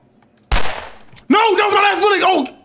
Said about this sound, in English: I think I just shot my last bullet